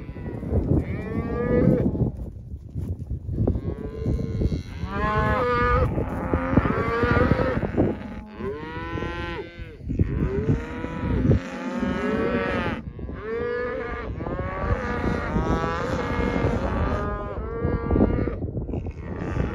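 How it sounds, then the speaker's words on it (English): A mother cow of a newborn calf lows repeatedly out in the open on a ranch during branding day, loud, drawn-out moos following one another closely with brief gaps, near and dominant throughout. "That's that calf's mother right there."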